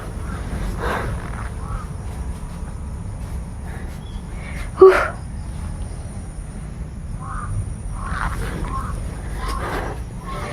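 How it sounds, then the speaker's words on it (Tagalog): Crows caw outdoors in several spaced calls over a low background hum, with one sharp, louder knock partway through. "Nagsisidatingan na naman yung mga bagong uwak mga idol."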